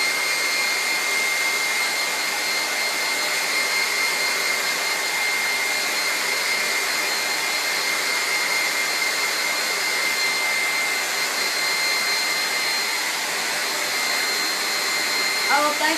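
Hair dryer running steadily at close range to dry a canvas craft piece, an unbroken loud whooshing hum that holds level throughout.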